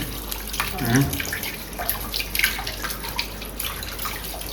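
Tap water runs and splashes in a home kitchen sink while potatoes are washed, a continuous close hiss with small splashes and clinks throughout.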